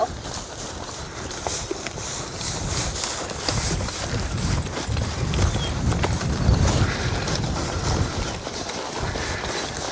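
Horses walking on a hay field, hooves thudding softly in an uneven plodding rhythm under steady wind noise, fairly close and continuous.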